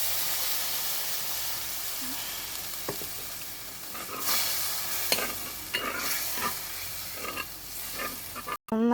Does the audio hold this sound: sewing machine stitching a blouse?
no